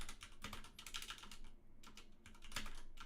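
Fast, continuous clatter of a computer keyboard being typed on at close range while programming, with rapid key clicks running almost without pause and one brief lull midway; no voices.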